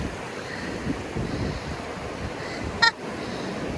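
Ocean surf rolls in at Hug Point beach on the Oregon-style rocky coast, a steady wash of waves mixed with wind noise on the microphone, with a brief sharp splash or knock near the end.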